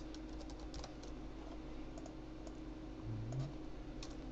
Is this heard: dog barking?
no